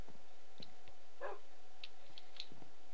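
A dog in a Feed The Beast Minecraft modpack gives a few faint, brief barks over low background game noise.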